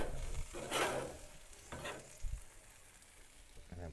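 A beef tenderloin sizzles on a hot Masterbuilt 1050 grill while being reverse seared, a steady crackling hiss with a couple of louder bursts and some clanking handling noises.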